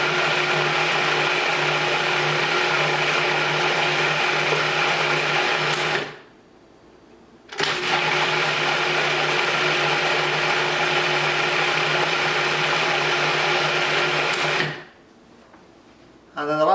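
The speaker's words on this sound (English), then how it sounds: "And then blend it back on," A blender whirs steadily through lemon ricotta cheesecake filling, a loud close motor drone that stops briefly, restarts, runs on and cuts out again near the end.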